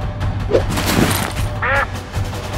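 Duck quacking in a shooter video game, a short nasal quack standing out against busy game sounds and background noise.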